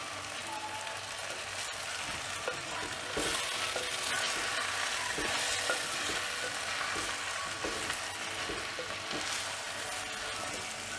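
Chili powder and turmeric fry in a clay pot for a shrimp and dried-fish curry, giving a steady, close sizzle with scattered scraping stir sounds throughout.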